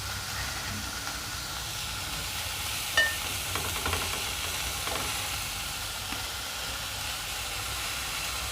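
Small bitter gourd stir-fry cooking in a pan with salt, a soft steady sizzle and hiss under occasional light scrapes and taps of a spoon stirring, close and moderately loud.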